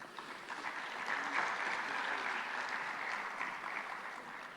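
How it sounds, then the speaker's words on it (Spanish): An audience at a labour procedural law congress applauds to welcome a supreme court judge to the panel. The clapping is sustained and even, with many hands blending into a continuous wash that is moderately distant. "a quien recibimos con un fuerte aplauso."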